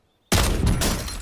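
Gunfire erupts suddenly in the video game Warzone after a brief silence, a loud, dense burst of shots that rattles on continuously and tails off slightly toward the end.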